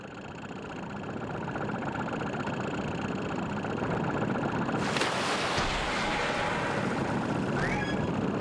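Water pours onto a fire in Skyward Sword, a loud rushing hiss that bursts in midway over a steady watery, engine-like ambient bed and keeps churning to the end.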